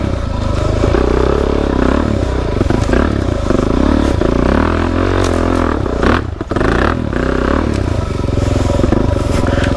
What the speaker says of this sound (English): my baffle is coming out in the back, because this thing got significantly louder in the last few minutes